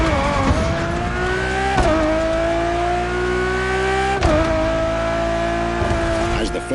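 A Ferrari Enzo supercar's engine in The Crew Motorfest racing game, a loud, close, continuous howl that climbs through the revs, with abrupt dips at two gear shifts, a voice talking over it.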